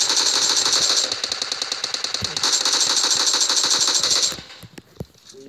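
Rapid automatic gunfire in a team-based shooter video game, dense bursts rattling loudly and continuously for over four seconds before cutting off, followed by a few scattered softer impacts.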